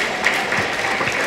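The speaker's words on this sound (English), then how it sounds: "Can we have a huge round of applause?" A brief burst of audience applause in a student training session, a dense wash of clapping lasting just over a second.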